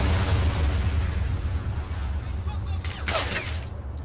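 Artillery shells burst in a Somme battlefield war video game, dull booms and a sharper blast near the end over a constant low rumble, with someone talking throughout.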